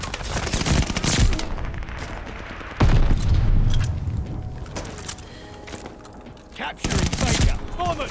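Loud automatic gunfire from the Automaton rifle in Call of Duty multiplayer, fired in several rapid sustained bursts separated by short pauses.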